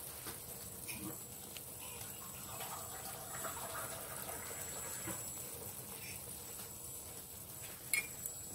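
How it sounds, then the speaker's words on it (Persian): Water poured into a pan of Persian pan kebab, about a cup added; a steady soft splashing, trickling wash runs through the whole stretch at moderate level, close by, with a brief clink near the end. "بقیه آب رو اضافه میکنم، تقریبا یک لیوان."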